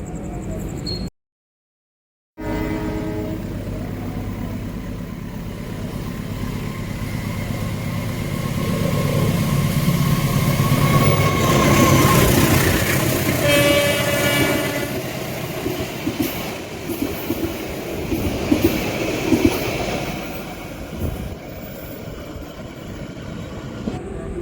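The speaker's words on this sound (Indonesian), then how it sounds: "Kereta api Tawang Alun melintas langsung stasiun Grati" The Tawang Alun passenger train runs straight through Grati station without stopping, a long rumbling pass with rhythmic wheel clatter that swells toward the middle and carries on steadily, heard up close and alone.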